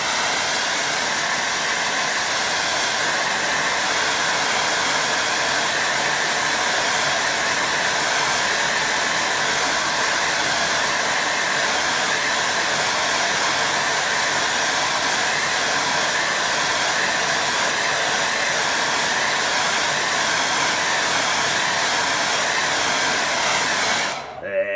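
A hair dryer blows over a freshly painted watercolour sky, a loud continuous whooshing motor roar held steady for the whole stretch, then cut off abruptly at the very end.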